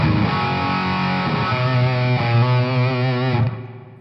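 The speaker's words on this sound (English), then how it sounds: "Here is the same exact thing, but this time with that short echo kicked in." Electric guitar played through a short echo effect pedal, sustained distorted chords and a rhythmic riff with a tight slapback repeat, loud and alone before ringing out and fading at the end.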